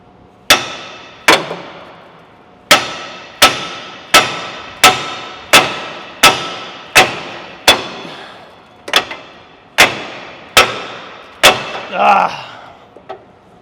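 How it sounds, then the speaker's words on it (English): A hammer strikes a Ford F-250 ball joint about a dozen times in a steady series of sharp metallic whacks, each one ringing briefly, followed by a clatter at the end. "See if I can give it a whack again."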